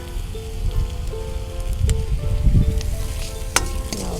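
Mint leaves fry in a pan of hot oil, giving a continuous close sizzle with scattered pops and a few sharper crackles, and no voices.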